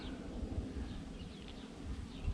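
Honey bees buzz steadily around an open hive during an inspection where a queen is being released, a soft continuous drone with no talk over it.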